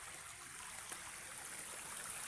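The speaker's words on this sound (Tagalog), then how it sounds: "Dadaan ko na ng sapa. Tubig. Ang tubig, oh." A forest stream on the way to a farm resort flows softly at a distance, with a faint, steady trickle and gurgle and no voices.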